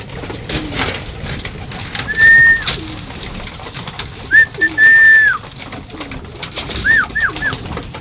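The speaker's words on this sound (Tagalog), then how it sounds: "Yan sila mga kalapati natin." Pigeons cooing in a loft in Lucban, Quezon, with several clear rising-falling coos near 2, 4.5–5.3 and 7 seconds over a soft, busy background of rustling and distant bird chatter.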